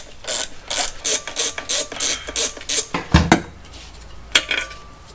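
A hand ratchet clicks in quick bursts while backing out 10mm bolts on a Honda Acty engine, close and loud, followed by a metallic clunk and a few tool knocks.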